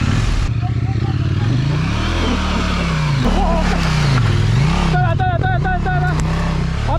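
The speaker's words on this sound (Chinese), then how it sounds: "然后你油门拉到大概4、5千转，再弹离合弹上去。" Nearby, a motorcycle engine is held up around four to five thousand rpm and then the clutch is dumped, the revs dipping and surging in loud rising-and-falling sweeps. People shout over the engine.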